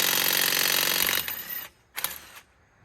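A Bauer 1/2 inch cordless impact wrench from Harbor Freight, running on a fully charged battery, hammers loudly and steadily for just over a second, tails off, then gives one more short burst.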